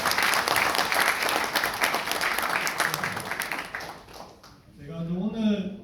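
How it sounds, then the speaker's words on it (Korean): Audience applause at a lecture on regional-led growth in Gyeongnam, dense clapping filling a hall for about four seconds before fading, then a voice begins speaking over the tail. "격려의 박수 좀 부탁드리겠습니다"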